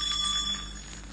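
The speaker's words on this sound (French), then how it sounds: "Elle fera tinter ses petites cloches comme ceci." Small bells tinkle briefly and brightly, a short shimmering jingle that fades quickly, sounding alone.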